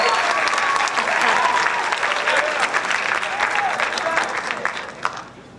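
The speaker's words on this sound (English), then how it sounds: "Give him another round of applause." An audience applauds at a high school winter band concert, dense sustained clapping that swells and then gradually thins, with faint crowd murmur underneath.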